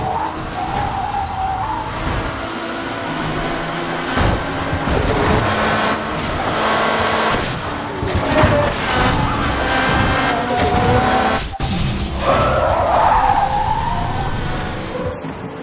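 Race cars in the Blur video game during a team race through New York: loud, continuous engine roar with squealing tyre skids and siren-like wails layered throughout, with no talking.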